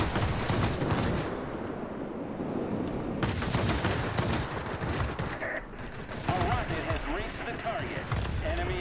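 Rapid bursts of 23mm cannon fire from a MiG-9 in the air-combat game World of Warplanes, several sharp rattling volleys over steady engine drone, with a voice talking in places.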